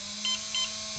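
A BL controller gives two short, high electronic beeps in quick succession over a steady low electrical hum.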